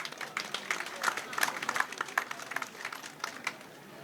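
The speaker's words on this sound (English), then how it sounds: "Let's give them a big round of applause." An audience at a Chinese kung fu show and Spring Festival celebration claps in loose, uneven bursts, individual hand claps standing out sharply against a thinner crowd background.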